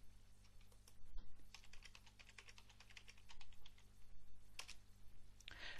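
Quiet keystrokes patter on a computer keyboard in irregular bursts while logging in over SSH, faint and close with a low steady hum beneath.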